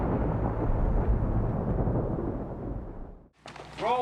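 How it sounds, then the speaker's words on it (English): A real thunderstorm gives a long, loud low rumble of thunder that rolls on steadily and fades out near the end, followed by a brief quieter stretch with faint higher sounds. "they found a real thunderstorm to drive into"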